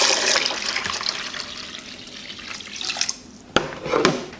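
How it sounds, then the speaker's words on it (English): Hot water at about 120 degrees is poured into a cooler over a jar of homemade yogurt, a steady close splashing rush that thins out toward the end, followed by a couple of sharp knocks. "My water's up to 120 degrees, so I'm just gonna dump it in on top of this yogurt jar and let it sit."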